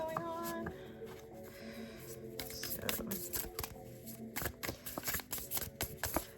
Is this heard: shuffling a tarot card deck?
yes